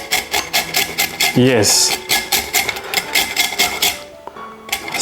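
Food is rubbed against a hand grater to take off its outer parts. Steady, rhythmic rasping strokes repeat close up, with a brief spoken word in the middle.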